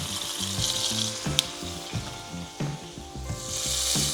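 A steak sizzles loudly in a hot pan after resting two hours, a dense, continuous crackle close up with a few sharp pops and shifting intensity.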